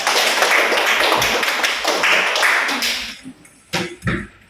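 A classroom audience applauds a group presentation with dense, loud clapping that thins out after about three seconds into a few scattered claps.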